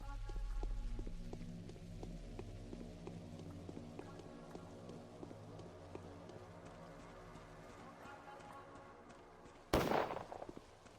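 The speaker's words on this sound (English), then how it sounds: "Who's shooting and why?" Gunfire in Pathologic: The Changeling, a sudden loud burst of shots near the end after a quiet stretch of rhythmic tapping sounds and ambient tones.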